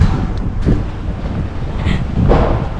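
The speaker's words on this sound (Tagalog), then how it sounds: "ang lakas ng hangin" Steady wind in Madrid, Spain buffets the microphone with a low, rumbling roar that swells and gusts throughout, with no talking.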